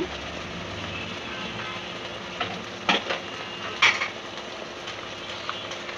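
Ginger paste frying in a pan for beef liver bhuna, a steady close sizzle with a few sharp clinks of a spoon against the pan partway through, no talking.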